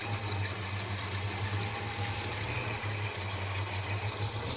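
A Holden HK engine idles roughly and misfires, giving a steady, close, low drone with a couple of brief stumbles partway through and no voices.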